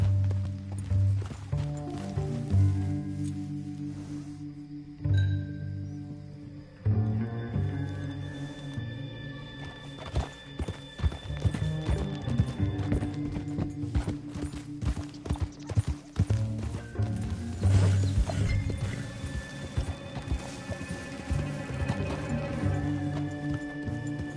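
Horse hooves clip-clopping in the video game Red Dead Redemption 2, a steady rhythm of close hoofbeats running beneath a dense bed of game music and ambience, with a brief gap partway through.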